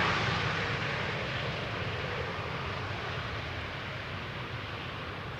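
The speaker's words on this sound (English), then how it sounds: "Transavia having arrived from Mahon" Transavia airliner landing on Schiphol's Polderbaan, a broad hissing jet roar heard at moderate distance, steady and slowly fading over several seconds.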